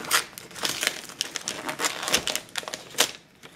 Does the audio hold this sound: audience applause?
no